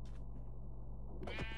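A brown sheep in Minecraft gives a short, clear bleat near the end, preceded by a low steady background hum with no other sounds.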